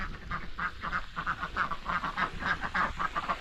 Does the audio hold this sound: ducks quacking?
yes